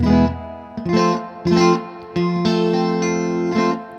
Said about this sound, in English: a slight signal boost into a Fender Super Reverb with a bunch of reverb on it